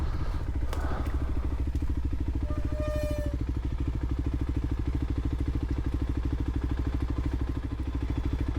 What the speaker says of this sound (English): there's a motorcycle enduro going on today.